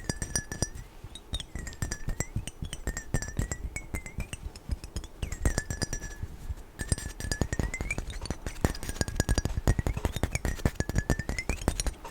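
Glass perfume bottle, a Gucci Eau de Parfum pour Homme, handled and tapped up close, giving a long run of quiet clinks and light knocks with faint ringing glass tones.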